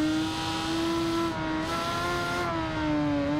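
A motorcycle in the Ride 2 racing game revs hard with a steady tonal engine whine that dips and rises as the bike spins out, loud and continuous with no talk.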